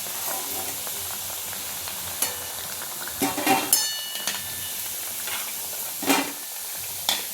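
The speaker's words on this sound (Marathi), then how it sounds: "हलक्या हाताने तळायच्या त्या" Coriander fritters (kothimbir wadi) fry in hot oil with a steady bright sizzle and hiss, broken by a few sharp spatters and clinks from the pan.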